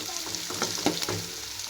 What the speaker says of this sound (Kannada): ಈಗ ನೋಡ್ರಿ ಎಲ್ಲ ಫ್ರೈ ಮಾಡ್ಕೊಳತ್ತೇನ್ರಿ